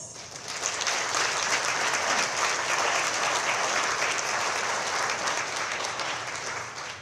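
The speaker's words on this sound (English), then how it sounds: "I would like us all to please give MOFOR Taiwan a round of" A large banquet audience at a Taiwanese foreign ministry spring gathering bursts into sustained applause. Dense, steady clapping fills the room for about seven seconds and tapers slightly at the end.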